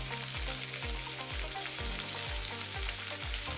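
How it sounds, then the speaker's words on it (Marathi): Paneer pieces fry in oil over low heat for paneer chilli, giving a continuous, close sizzle with a steady crackling texture and no talking. "आपल्याला आपले सर्व पनीरचे तुकडे हे मंद आचेवरती तळून घ्यायचे आहेत"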